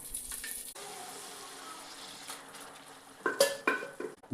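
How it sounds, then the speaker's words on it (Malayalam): A teaspoon of ghee sizzles in a pan while sugar-free ash gourd jam is being made. A steady close hiss carries on throughout, and a few louder scrapes and clinks break in near the end. "1 ടീസ്പൂൺ നെയ്യ് ഒഴിക്കുക"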